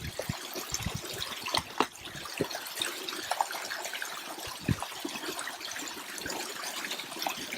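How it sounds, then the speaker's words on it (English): Water gurgles and splashes as a pouch is filled from a stream, with irregular bubbling and trickling over a steady flowing background. "Just fill it up with water, screw the filter straight on."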